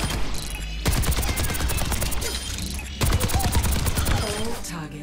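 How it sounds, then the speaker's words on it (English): Rapid automatic gunfire from Soldier 76 with tactical visor active in Overwatch 2, two long loud continuous bursts of rattling shots with mechanical clicks, close and dense, with a voice speaking over it. "activate your tactical visor and destroy your sights"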